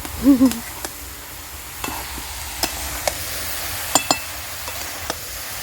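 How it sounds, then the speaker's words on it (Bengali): A spoon stirs crab with bottle gourd curry in a pan, making scattered scrapes and light knocks over a soft hiss of cooking, with a short tonal sound at the start. "এবার ভালো করে নাড়াচাড়া করে নেবে চাপা দিয়ে দেবে"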